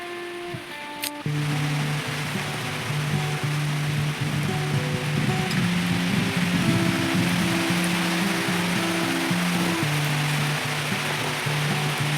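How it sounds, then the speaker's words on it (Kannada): Heavy monsoon rain in Udupi pours down in a dense, continuous hiss, loud and steady throughout, with a low mechanical hum running underneath. "ಮಳೆ ಜೋರುಂಟಲ್ಲ"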